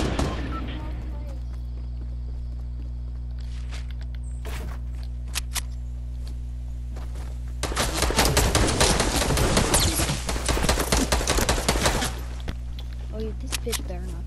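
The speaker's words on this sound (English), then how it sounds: "Somebody has a freaking normal assault rifle." Assault rifle fire in Fortnite comes in loud rapid bursts over a steady low game hum, with single cracks beforehand.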